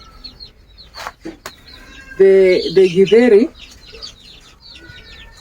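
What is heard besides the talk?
chickens clucking in a village yard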